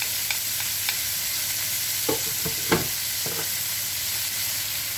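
Garlic fries in a skillet that has just held cabbage for a shrimp lo mein, a steady sizzle with a few sharp utensil scrapes and taps against the pan partway through.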